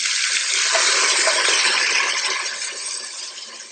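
Liquid poured from a carton into a beef and cranberry mixture for a Cookeo, a continuous splashing gush that gradually tapers off toward the end.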